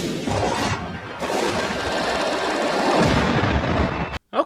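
Torpedo launch in an Avatar: The Last Airbender invasion episode, a loud, sustained roaring rush of noise lasting several seconds before cutting off abruptly, followed by a brief final thump.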